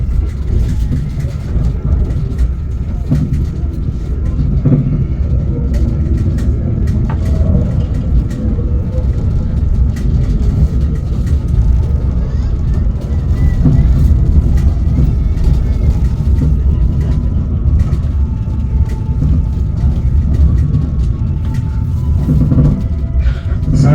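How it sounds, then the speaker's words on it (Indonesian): The Arjuna Express passenger train rolls into its final stop at Malang station with a steady, heavy low rumble and scattered clanks, heard from on board. A faint voice is present in places. "Saat ini kereta api Arjuna Express telah tiba di tujuan akhir stasiun Malang."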